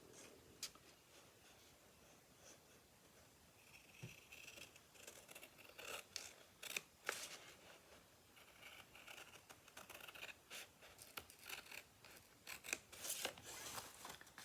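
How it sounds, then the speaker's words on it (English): Scissors snip through a paper portfolio flap along its score lines, a run of small crisp cuts and rustles at close range, fairly quiet with brief pauses between strokes. "I'm just going to cut this on those score lines."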